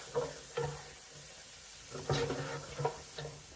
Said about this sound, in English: Tablespoon of oil in our skillet over medium-high heat. Let's add our pepper and mushrooms.